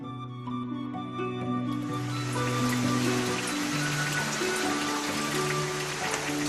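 Cool mountain spring water flows in a stream, giving a steady broadband rush and babble that swells after a moment and stays close, with a music bed playing underneath.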